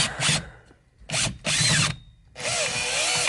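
A power tool removes a steering wheel bolt on a car, sounding as three loud close whirring bursts separated by short pauses, with the last one running longer.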